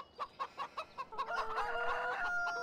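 Chickens in a farming video game's chicken zone cluck in a quick, evenly spaced run of about six notes, then break into a longer, drawn-out cackling call, fairly close and with no talking.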